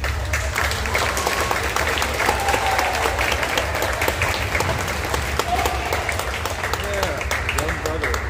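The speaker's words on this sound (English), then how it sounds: "So let's give a round of applause for our final soloist performing first concertino," An audience at a high school end-of-year concert applauds a soloist with sustained, even clapping that fills the hall, no voices over it.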